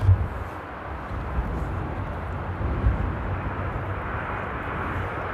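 An Air Baltic airliner arriving at Amsterdam Airport on a windy day, a distant, steady jet roar mixed with wind rumble, with no voices.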